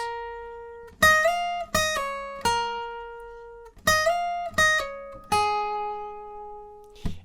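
A fingerpicked acoustic guitar plays the lead riff from a song: bright, clear plucked notes in short phrases, each ringing out and decaying, close and alone with pauses between groups.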